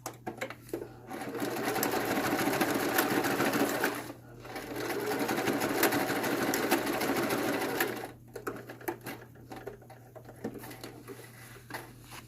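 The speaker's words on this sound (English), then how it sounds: "I'm going to go ahead and back stitch over it a couple of times." Sewing machine back stitching back and forth over a bias tape strap at a stress seam on a hospital gown, two sustained loud whirring runs with a brief pause between, then quieter handling clicks.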